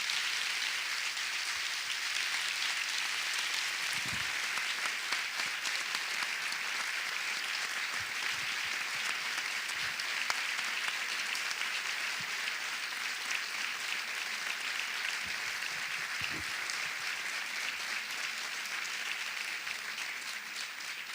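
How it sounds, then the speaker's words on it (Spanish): Sustained audience applause at a women's opinion event honoring journalist Pepa Bueno, a dense steady wash of many hands clapping that fills the whole stretch without pause, with no voices standing out. "un aplauso a Pepa Bueno"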